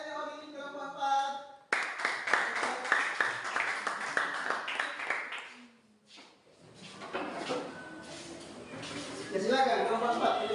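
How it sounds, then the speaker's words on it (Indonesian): Students clap for group 4 in a school setting: a steady round of close hand claps follows a brief spoken line, then tapers off into room noise and further talk. "Ya, berikan tepuk tangan untuk ini kelompok 4."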